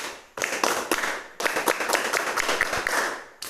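A classroom of students performs the Pramuka scout rhythmic clap, a quick patterned burst of sharp group claps in a short rhythmic sequence after a brief pause.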